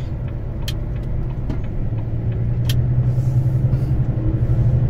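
A truck's engine rumbles steadily from inside the cab while driving on the road, a loud, continuous low drone with a few faint clicks and road noises layered over it.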